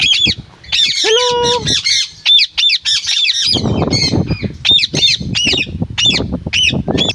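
A flock of birds squawks and chirps close by in rapid repeated calls, harsh honking notes mixed with higher tweets, with low rustling and handling noise underneath in the second half.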